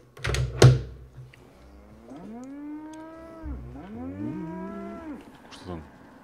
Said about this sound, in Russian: Что там? Корова?